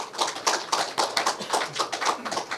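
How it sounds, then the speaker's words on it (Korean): An audience claps for a presenter at a Korean science and technology policy symposium, a brisk, steady patter of many hands close by that lasts a few seconds with no voices over it. "다시 한번 큰 박수 부탁드리겠습니다."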